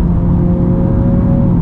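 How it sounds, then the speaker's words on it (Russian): A Renault Logan Stepway with a CVT accelerates hard at around 5500 rpm, its engine a loud, steady droning rumble with a sustained tone heard from inside the cabin, with no talking. "Обратите внимание на переключение передач."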